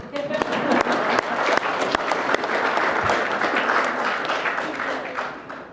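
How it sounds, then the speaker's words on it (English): An audience applauds steadily for several seconds, a dense wash of clapping that fades slightly toward the end. "This is where you clap, right?"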